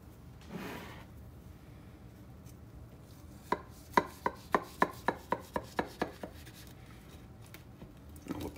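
A knife cuts down through a baked burrito pie with a pie crust, producing a quick run of about a dozen crisp, evenly spaced taps against the dish, close and distinct over a quiet background.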